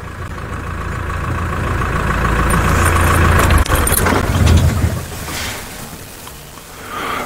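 Safari vehicle rumbling along a dark track in the Mara at night, steady engine drone with rattling and jangling, loud and close, easing off toward the end.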